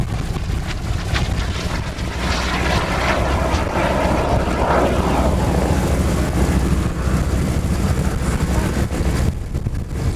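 A propeller airplane passes at an air show, a sustained droning roar that swells and fades over buffeting wind noise, with no talk.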